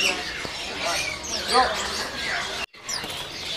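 A black cuckoo (kedasi hitam) at a bird market gives a short run of chirping calls amid busy background noise and other bird squawks, with the market din dropping out briefly near the end.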